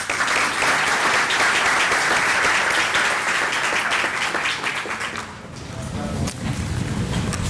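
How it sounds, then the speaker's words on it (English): Dense audience applause at a ceremony honoring Puerto Rican leaders in Miami, loud and continuous for several seconds before fading slightly, then picking back up near the end. "So we're just going to give her a round of applause."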